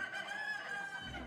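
A rooster crows once on the set of the Indonesian TV comedy show Opera Van Java, a sustained, slightly wavering call at moderate distance, heard alone without talk.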